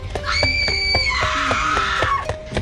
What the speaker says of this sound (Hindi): अचानक कनिका को रूपाली की दर्दनाक चीख सुनाई दी।